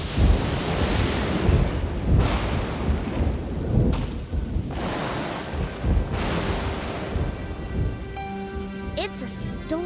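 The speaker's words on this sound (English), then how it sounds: "It's a stormy night for sailors." On a stormy night, heavy rain pours steadily while deep thunder rumbles and rolls several times, loud and enveloping. Faint tonal sounds emerge near the end.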